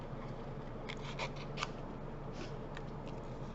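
Scissors snipping around the outline of a paper fun-fold card, a few short crisp cuts in quick clusters, soft and close in a quiet room.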